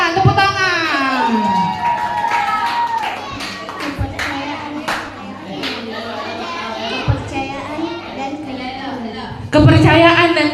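Schoolchildren clap and cheer in a lively burst at an Independence Day flag ceremony at school, with shouting voices and talk mixed through the crowd noise, swelling again loudly near the end.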